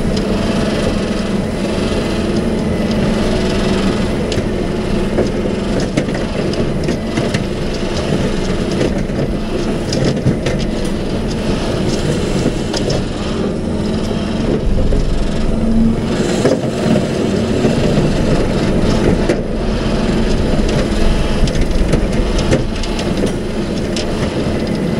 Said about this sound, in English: I forgot how much fun it was to mow in a housing development.